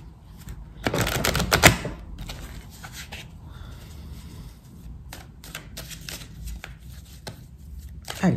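Oracle cards being shuffled during a tarot-style reading, with a loud riffling burst near the start followed by scattered soft card taps and flicks, close and without talk.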